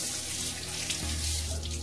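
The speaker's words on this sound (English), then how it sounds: "Look, I wash with the normal water." Hands are washed under plain running tap water, a steady close rush of water into a sink with no talking.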